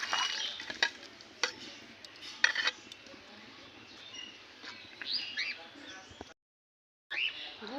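Jaggery is stirred into rice flour and water in a bowl, with a spoon clinking and scraping in irregular bursts, quiet swishing between, birds chirping in the background and a brief silent gap near the end.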